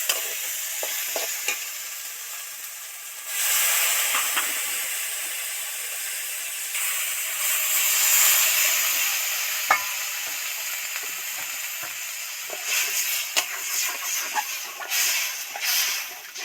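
Water added to a hot pan of oil-fried spices, cooking a vegetarian fig (dumur) dish, sets off a loud, sustained sizzle and hiss that surges and eases with occasional clinks of stirring, no talking.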